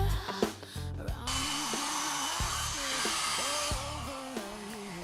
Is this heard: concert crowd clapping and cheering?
no